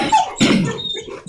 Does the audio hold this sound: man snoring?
no